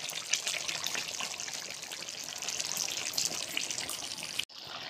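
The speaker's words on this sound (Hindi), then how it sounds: "अब मैं पानी डाली हूँ थोड़ा।" A steady stream of water is poured into a pan of cooking chicken masala, a continuous close hiss and splash that cuts off abruptly near the end, with no voices.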